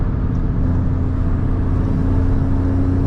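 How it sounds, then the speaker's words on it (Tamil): A modified Skoda Slavia 1.5 TSI with stage 3 tuning pulling in fifth gear at highway speed, a loud steady engine drone and road roar heard from inside the cabin. "இந்த 5th கியர் புல் பாருங்க, 110லேருந்து 130 ஈஸியாக வருது."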